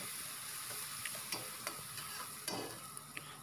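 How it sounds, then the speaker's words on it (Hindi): Chopped onion and green chilli fry in a pan, a soft continuous sizzle broken by a few light scraping stirs, close but quiet and with no talking. "इसके अंदर ऐड कर लेंगे चॉप कटी प्याज और चॉप कटी हरी मिर्च और इनको भी हम अच्छी तरीके से मिक्स कर लेंगे और बिल्कुल ब्राउन होने तक पकने देंगे"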